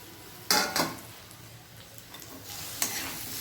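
Beetroot curry with fresh coriander is stirred in a pan: a spoon scrapes and clanks against the metal in a few distinct strokes over a soft, continuous sizzle.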